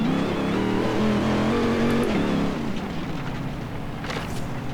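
A Rolls Royce engine in Forza Horizon 3 held at full throttle, a loud, steady droning roar whose pitch rises slightly and then settles into a lower, rougher hum.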